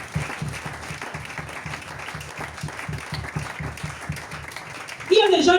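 A church congregation claps steadily together in praise of the Lord, a dense rhythmic applause running throughout, with a louder swell of voices and cheering near the end.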